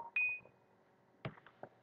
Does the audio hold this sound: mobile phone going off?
yes